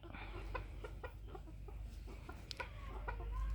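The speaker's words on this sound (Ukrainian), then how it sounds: "Півень." Silkie chickens and a rooster clucking close by in a steady series of short calls, with a low hum of background noise throughout.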